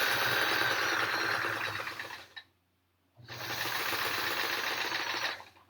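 A quiet modern sewing machine with an internal motor stitches a triangle-patterned quilt, producing a steady, close mechanical hum that stops briefly for under a second, then resumes, with no talking.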